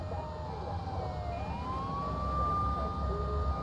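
A game siren in GTA 3 wails at a distance, its pitch gliding and rising steadily over a low engine hum, faint and continuous with no talk.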